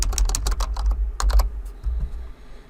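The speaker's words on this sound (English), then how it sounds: "I'm going to type" Rapid keystrokes on a computer keyboard, a close run of clicky taps followed by a pause and a few more, over a low background hum.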